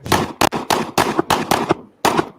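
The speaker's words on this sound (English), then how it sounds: "Ammo is expensive. Let's get shooting." Bursts of gunfire ring out in rapid succession as magazines are emptied: loud, sharp, close shots in clustered volleys with brief gaps between them, and no voices.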